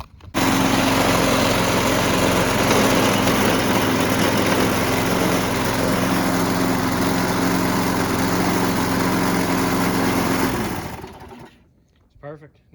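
The small engine of an old push lawn mower runs at a steady, buzzing high idle for about ten seconds, then cuts out and winds down into quiet with some faint handling noise.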